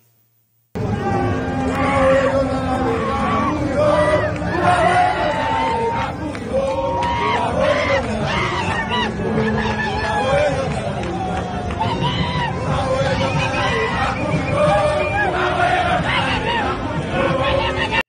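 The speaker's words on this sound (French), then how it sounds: "Nèg yo mette yon foule moun dans la rue." A large crowd of protesters fills a street in Haiti, a dense, loud roar of shouting voices and chatter that holds steady from start to finish.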